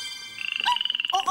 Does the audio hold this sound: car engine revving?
no